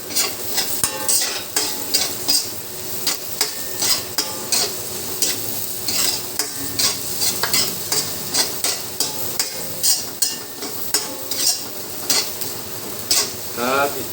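Onions fry in a pan with fish, hissing steadily under repeated scraping and knocking strokes of a utensil against the pan. The stirring comes in irregular bursts, close and fairly loud.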